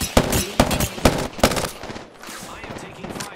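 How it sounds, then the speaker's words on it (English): Four sharp, evenly spaced shots ring out in quick succession during an Apex Legends ranked match, then taper into fainter scattered pops and ambient game noise. "I am taking fire."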